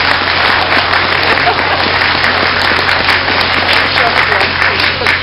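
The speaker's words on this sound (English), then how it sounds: "Please, for one more, a round of applause for the whole group of elected officials who have been really, really key." Audience applause for a group of elected officials at a grand opening ceremony, dense and steady clapping filling the hall loudly and continuously from start to finish.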